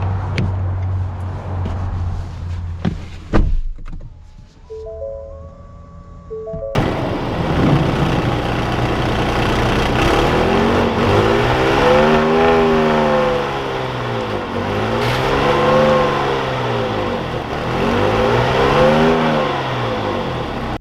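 A 2021 Ford Explorer Hybrid starting up and pulling away, with a few chimes and clicks first, then a steady engine and road drone whose pitch swells and falls as it accelerates, close and fairly loud.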